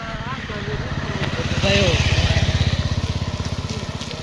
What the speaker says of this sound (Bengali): ও মাই গড, বাইক আসতেছে।